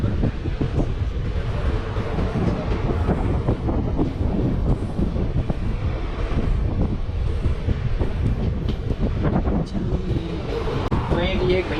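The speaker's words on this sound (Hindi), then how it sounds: "तो ट्रेन अपने आप मंदी हो जाती है।" A passenger train in Kerala slowing on a bridge over a lake. It gives a continuous rumbling clatter with wind buffeting the microphone, and voices can be heard faintly underneath.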